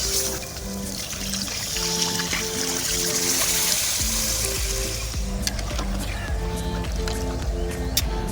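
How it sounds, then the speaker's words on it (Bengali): Water is poured into sizzling katla fish kalia masala in a pan, a steady bubbling sizzle with a trickling pour, close and fairly loud, while music plays along and a voice speaks briefly. "রোহিণী জল দিয়ে দিই।"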